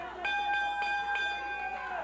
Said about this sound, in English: Right on top of you, Corey, with the bell